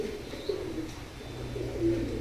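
Pet pigeons of a fancy breed, teddy and fakir gul birds, coo close by in a low, rolling murmur that repeats throughout with soft chirps.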